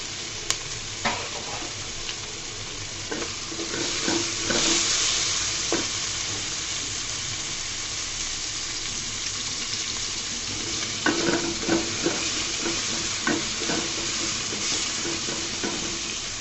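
Salted onions fry in a pan with a continuous sizzle while a utensil stirs and scrapes them, producing intermittent clinks and scraping bursts over the hiss.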